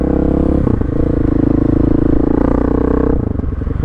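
A 2021 Husqvarna 701 Supermoto single-cylinder engine and exhaust roar loud and close, holding a steady throbbing drone with a pitch shift partway through and a drop near the end.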